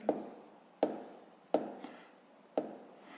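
A pen writes numbers on paper during a fifth-grade long-division exercise, giving four short, close scratchy strokes spaced at an irregular rhythm, quiet and with no talk.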